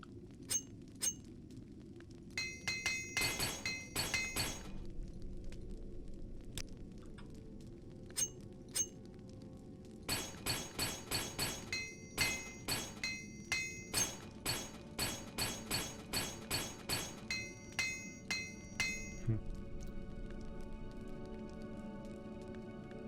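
Gear repaired with a hammer in the game Morrowind, heard as bright metallic clinks in quick bursts and then a long steady run of evenly spaced strikes, fairly quiet against a faint background.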